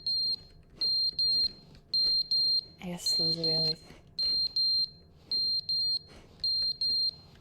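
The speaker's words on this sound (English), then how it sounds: "Okay, the fire alarm's going off." A fire alarm in the video game The Stanley Parable: Ultra Deluxe sounds in a repeating pattern of sharp, high-pitched beeps grouped in short bursts. Someone talks over it partway through.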